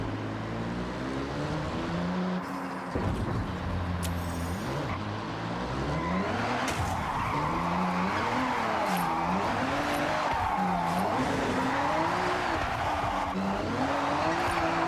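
Simulated car drifting in the racing game Assetto Corsa, a steady engine roar with shifting pitch and continuous tire squeal as the car slides, loud and sustained throughout.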